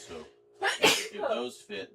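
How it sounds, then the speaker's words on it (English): A person sneezes sharply once, loud and close, in the middle of a stretch where someone talks steadily before and after the burst. "I can hear you sneezing your brains out."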